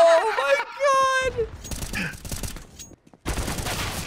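Rapid bursts of gunfire from a mid-map brawl in the video game Counter-Strike: Global Offensive, dense crackling volleys in the second half mixed with excited voices and game sounds.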